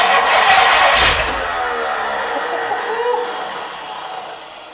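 A 1962 Ford Thunderbird left sitting for 46 years cranks and sputters without catching, a loud hissing burst at first that settles into a rough, uneven churn and trails off.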